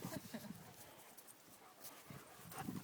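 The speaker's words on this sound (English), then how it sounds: "Nothing better than another puppy to play with" Puppies play together with scuffling paws, soft whimpers and little yips in short, close bursts, quiet overall with a few livelier moments at the start and end.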